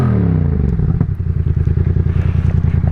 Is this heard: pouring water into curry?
no